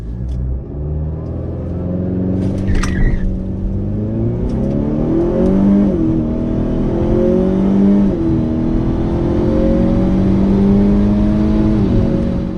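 A 10th-generation Honda Accord (2018-2022) revs while held on the brake, a loud steady engine rumble that climbs in pitch several times and holds at high RPM.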